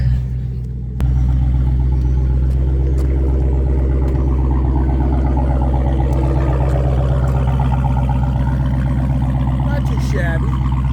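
A car engine with its muffler removed idles loudly and close at a car meet, a deep steady rumble with a throaty pulsing beat after a brief quieter start, with faint voices underneath.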